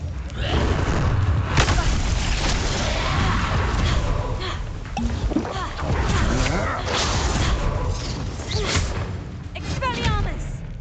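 Magic spell blasts and impacts from Hogwarts Legacy combat, a continuous barrage of booms, crashes and thuds layered over one another, loud and busy throughout with sharp hits punctuating the din and game voices mixed in.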